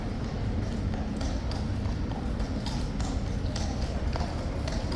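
A horse on Monday morning duty with the King's Guard walks slowly, its hooves clip-clopping in a steady, moderate rhythm over a busy outdoor background with faint voices nearby.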